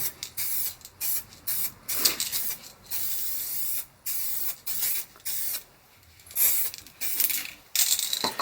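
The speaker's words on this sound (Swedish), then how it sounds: "då kan man spraya på ganska, i alla fall lite mer än första lagret" Repeated hissing bursts of an aerosol spray can painting a Volvo 740 part, close and fairly loud, each press lasting about a second with short pauses between.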